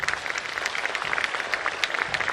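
An audience at a freshman orientation claps in a dense, steady patter of many hands, moderately loud and continuous throughout the short stretch, with no voices standing out.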